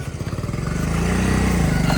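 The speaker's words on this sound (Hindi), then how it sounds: "चलो जी मोटरसाइकिल फिर अड़ गई" A motorcycle engine on a muddy village track labours and chugs unevenly as it bogs down, a steady loud near rumble with rhythmic pulsing throughout.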